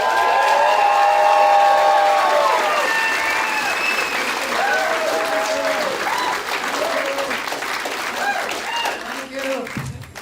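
Loud applause and cheering from a comedy show audience welcoming a comedian on stage: dense clapping with whoops and shouts, peaking early and then easing, with voices calling out over the clapping.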